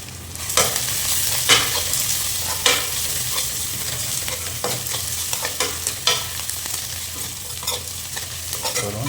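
Potatoes fry for potato masala with ginger in an oil-filled pan, a continuous sizzle broken by repeated scraping stirs of the spoon against the pan, close and clear with no talking.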